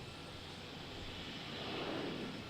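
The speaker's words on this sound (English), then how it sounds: "Air Mexico 431 to Mexico City is taking off." An Aeromexico airliner, flight 431 to Mexico City, takes off at Raleigh-Durham airport, heard as a steady, distant jet-engine roar that swells slightly toward the end.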